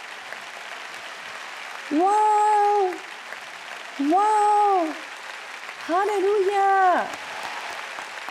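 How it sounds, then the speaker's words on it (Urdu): Audience applauding for mothers: a continuous wash of clapping runs throughout while a woman calls out three drawn-out exclamations over it. "آئیے ماؤں کے لیے تالیاں بجائیں."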